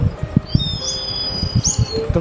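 Herring gull chicks call for food with high, thin, drawn-out cries, set over a steady run of low thumping pulses, loud and close, with no talk.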